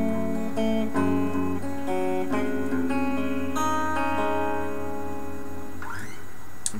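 Guitar plays the intro of a song, a clean picked arpeggio phrase that rings up close and moderately quiet, then fades out with a brief string scrape at the end.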